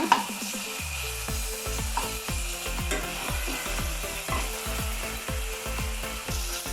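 Ginger garlic paste frying in a pan, a constant close sizzle with repeated rhythmic scraping strokes of a spatula stirring through it, no voices.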